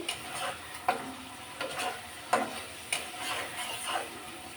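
Eggplant masala with dried fish sautés in a pan, with a faint, steady sizzle under a slow run of spatula strokes scraping the pan about every half second.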